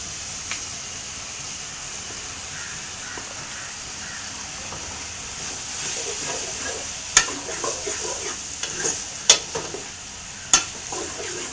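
Cut potatoes sizzle in a cooking pan with a constant hiss. Louder spatula scrapes and knocks stir them in bursts toward the end, and no one speaks.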